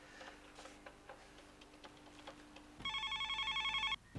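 An electronic telephone ring sounds at the end as a call is placed: a warbling, pulsing tone lasting about a second, preceded by faint ticking and quiet room noise.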